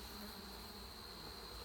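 Honey bees buzz in a steady, close drone during a hive inspection, the humming continuous and alone without talk.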